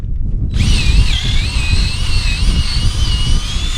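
A power drill widening a bolt hole while bacon makers are set up on a farm, a steady loud whine that kicks in abruptly and runs on without a break, with no talking.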